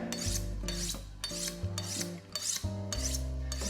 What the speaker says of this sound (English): We always have to sharpen our knife